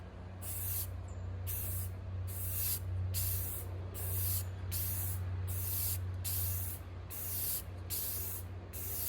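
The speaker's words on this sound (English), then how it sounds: "Then I'm gonna spray another coat." Spray paint hissing onto furniture as another coat goes on, with steady repeated bursts, each about half a second long and evenly spaced, over a constant low background hum.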